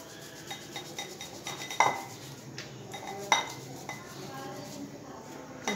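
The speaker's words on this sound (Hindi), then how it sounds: "तो आलू को हम मैश कर लेंगे।" Boiled potatoes being mashed in a bowl, with repeated soft squishing presses and occasional sharp clinks of a utensil against the dish, close and fairly quiet.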